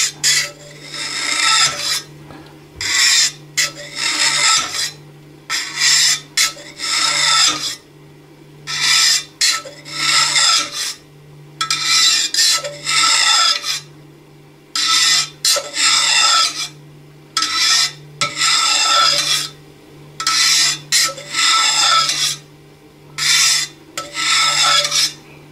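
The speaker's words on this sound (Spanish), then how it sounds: "vamos a hacer cortes" A knife scores cuts into a homemade cured cheese, producing repeated loud rasping strokes in rhythmic bursts with brief pauses, over a steady low hum.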